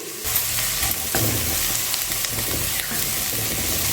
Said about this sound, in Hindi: प्याज को लगातार चलाते हुए भून दें।